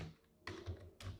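Keys tapped on a computer keyboard while entering text into an Excel salary sheet, heard as two short, faint bursts of clicking close by in a quiet room.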